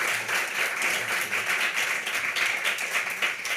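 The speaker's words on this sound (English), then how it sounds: "Applause." Steady applause from an audience at a conference talk, a dense even wash of many hands clapping throughout, moderately loud with no speech on top.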